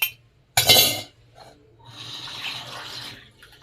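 A glass clinks sharply, then water is poured into a pot of lentils with vermicelli, making a splashing pour lasting over a second, close and alone.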